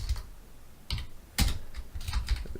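Keys on a computer keyboard clack in short, uneven bursts as an address is typed, several quick taps spaced across a couple of seconds, close and fairly crisp with no voices.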